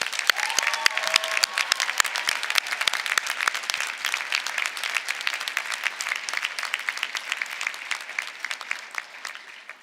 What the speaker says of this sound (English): Let us give our graduates a round of applause